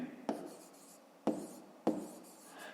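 A pen or pencil writes out a fifth-grade math solution on paper in three distinct scratchy strokes, each beginning with a sharp tap about a second apart. The sound is close and quiet, with no talk.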